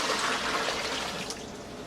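About four gallons of water pour steadily for bread dough, a continuous splashing rush that eases slightly near the end, with no talking.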